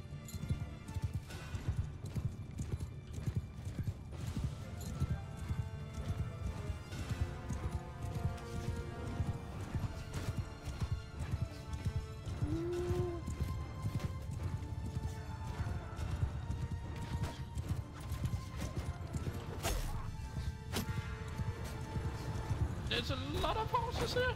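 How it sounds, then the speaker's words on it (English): Many horses galloping in a battle in the video game Mount & Blade 2 Bannerlord, a dense, steady clatter of hooves with occasional whinnies and game music, continuous throughout under a busy mix. "There's a lot of horses here!"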